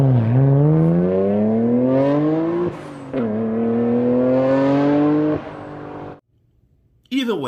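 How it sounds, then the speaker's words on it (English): A turbocharged inline six-cylinder engine revs hard up close in two rising pulls, its harmonic note climbing sharply, with a brief lift between them and a sudden cutoff followed by near silence. "there is no bad sounding inline 6-cylinder engine"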